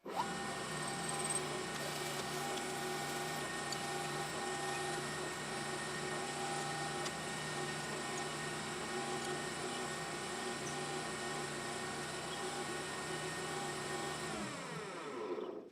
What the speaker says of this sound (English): Now reverse it in the chuck and dial it back in to turn the other side and do the thread.